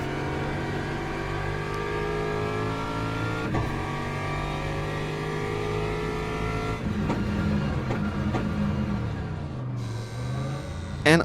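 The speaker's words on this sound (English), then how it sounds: "Now we are coming in for the pit stop." A race car in the Le Mans Ultimate sim enters the pit lane, its engine droning steadily with a layered harmonic whine, shifting pitch and dropping near the end as it slows, with no talk over it.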